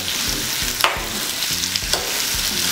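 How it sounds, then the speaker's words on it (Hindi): Sliced onions frying in a pan with oil, a steady close sizzle broken by a few scraping stirs of a spoon, with no voices. "प्याज को हम फ्राई कर लेंगे"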